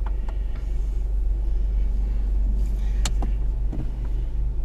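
A car pulling out of a snowy car park near a Co-op shop, heard from inside as a steady low engine and road rumble with a few sharp clicks and knocks, no one speaking.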